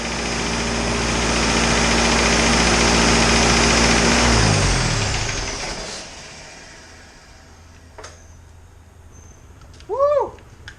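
An Isuzu 4BD2T diesel engine running loud and steady after its first startup, then winding down and shutting off, leaving quiet surroundings with a few faint clicks and a short chirp.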